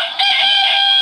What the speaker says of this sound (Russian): Ночь во дворе, чё ты тут кукарекаешь?